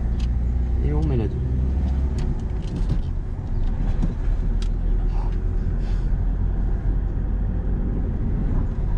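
Steady car engine hum inside a learner's car during a driving lesson, with the driver shifting into second gear; continuous low rumble throughout, with an instructor talking over it.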